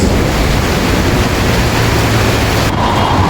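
Strong wind roars steadily during a hailstorm with thunder, a loud broadband rush gusting against a house roof, with no voices.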